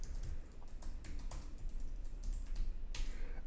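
Someone types a password on a computer keyboard. The soft, irregular keystrokes are close but quiet, with a slightly louder cluster toward the end and no voices.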